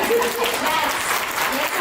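An audience at a workplace conference applauds a team, a dense, steady burst of clapping with a few voices mixed in, filling the room continuously.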